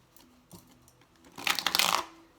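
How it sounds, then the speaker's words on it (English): Tarot cards are handled with a few soft taps, then shuffled close up in a quick, crisp riffling burst that lasts about half a second before fading. "Oh, that was a bum shuffle."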